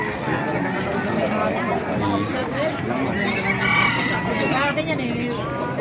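A white hatch gamefowl rooster, eleven months old, crows at a Calumpit market amid a busy crowd, its calls rising over steady babble and nearby talk.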